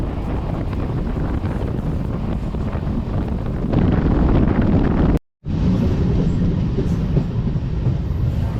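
MEMU passenger train 67204 on the Srikalahasti–Nellore line rumbling steadily along the rails, a loud continuous roar with wind buffeting the microphone, briefly cut off by a short gap before resuming.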